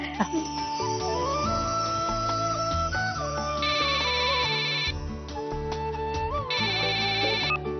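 A phone ringtone plays as a looping electronic melody, with bursts of a high trilling ring pattern repeating twice over the tune.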